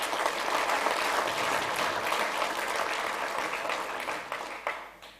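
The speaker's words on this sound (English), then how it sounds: "Please give a big applause." An audience at a European and African sommelier championship final in 2021 keeps up sustained applause that swells and holds, then thins out and fades near the end.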